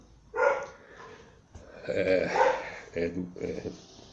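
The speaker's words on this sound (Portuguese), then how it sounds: "Só começar a gravar o cachorro começa a latir" A dog barks a few times in short bursts, mixed in with someone talking nearby.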